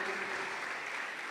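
A congregation claps during a church worship service, steady dense applause filling the space from start to finish at moderate level, with no voices standing out over it.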